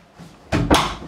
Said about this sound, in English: just need to close this door.